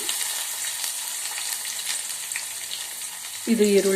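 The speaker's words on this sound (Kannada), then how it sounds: "ಸಾಸಿವೆ ಜೀರಿಗೆ ಚಟಪಟ ಅಂತ ಸಿಡಿದ ಮೇಲೆ ನಾವು ಹೆಚ್ಚಿಟ್ಕೊಂಡಿರೋ ಕರಿಬೇವನ್ನ ಸೇರಿಸಿದೆ" Mustard seeds, cumin and curry leaves splutter in hot oil as a steady, fairly loud hiss. Near the end a brief tonal hum joins in.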